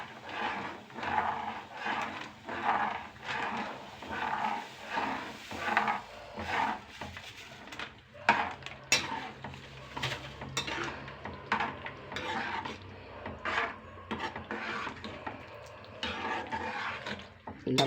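Rava kichadi stirred in a pot with a spoon, a continuous rhythmic scraping and rubbing against the pot that goes on for many seconds, close and moderate in level, with no voices.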